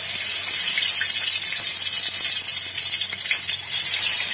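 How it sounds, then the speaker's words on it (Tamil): Stuffed brinjals go into hot oil in an Andhra-style preparation, giving a loud, steady hiss and sizzle that continues without a break. "இப்ப எண்ணெய் பாத்தீங்கன்னா நல்லா காஞ்சிருச்சு. இப்ப ஒவ்வொரு கத்திரிக்காவா போட்டுடலாம்"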